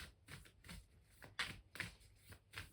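Soft papery riffling as tarot cards are shuffled, several quick brushing bursts in an irregular rhythm, close and quiet.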